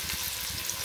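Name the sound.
chopped onions frying in oil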